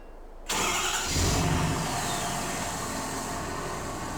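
In a video game, a Ford car's engine cranks and catches after a moment of silence, then settles into a loud, steady idle that rises briefly before holding.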